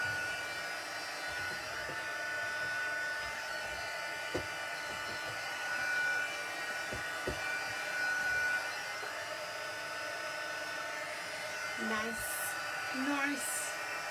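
A heat tool blows steadily over watercolour on vellum while it is dried from underneath for warpage, a constant close airy whoosh throughout with a few light knocks and two short high squeaks near the end.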